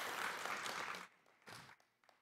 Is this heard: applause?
yes